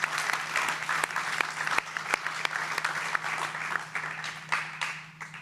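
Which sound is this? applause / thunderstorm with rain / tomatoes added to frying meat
applause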